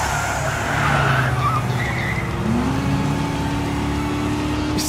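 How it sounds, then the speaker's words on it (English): A turbocharged vehicle in Trails through Daybreak revs loudly with a rising engine tone and squealing, skidding tires up close, a brief whoosh of movement cutting in near the end. "Is that a turbocharger?"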